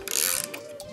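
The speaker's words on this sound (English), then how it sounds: "He's going to use a 10 mil socket and ratchet to tighten up the clamp" A 10 mm socket and ratchet tightening a muffler clamp on a Predator 212 engine exhaust, a close, busy run of rapid clicking pawl ratchets lasting about a second.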